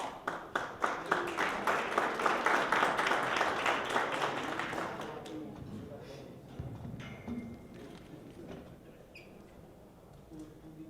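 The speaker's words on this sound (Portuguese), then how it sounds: "vamos receber com uma forte salva de palmas" Applause from a conference audience at a justice and data event, loud and dense at first, then fading after about five seconds into scattered claps and room noise.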